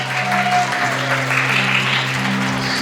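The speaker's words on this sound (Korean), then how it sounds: "여러분 뜨거운 박수 부탁드리겠습니다" Applause from wedding guests at a hotel ceremony, a steady wash of clapping lasting throughout, with low music tones sustained underneath and no talk over it.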